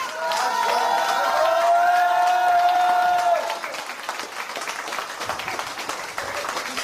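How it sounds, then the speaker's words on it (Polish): Wedding guests applaud at a reception, a loud crowd of clapping with some cheering and a sustained whistle-like tone early on, then lighter clapping as the applause dies down, with faint voices. "Proszę o brawa, brawa!"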